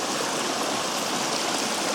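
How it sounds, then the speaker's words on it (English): A creek flows steadily in the outdoors, a close, continuous rushing and trickling of water with no voices over it. "so we're down here at the creek"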